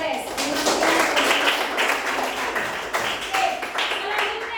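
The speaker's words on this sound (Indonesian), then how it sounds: "kasih tepuk tangan untuk Grace" A classroom of students clapping for a classmate, a steady patter of hands continuing for several seconds with voices mixed in beneath it.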